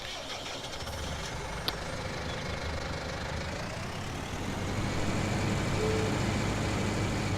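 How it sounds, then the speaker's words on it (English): A tractor with trailer in the video game Farming Simulator 19 idles with a steady low diesel drone, growing slightly louder and fuller near the end as it pulls forward. "I'll bring the tractor and trailer forward."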